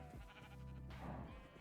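A sheep in the modded Minecraft game TerraFirmaCraft gives a single wavering, nasal bleat lasting about a second, close and clear with no talk over it.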